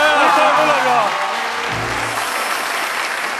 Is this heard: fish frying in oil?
no